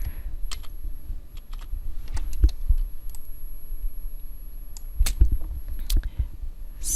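Mouse clicks and keyboard key presses while selecting objects in a drawing program, a sparse run of sharp, close clicks and taps separated by quiet pauses.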